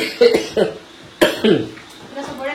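A few short, harsh coughs close to the microphone, spaced unevenly with quiet pauses between them.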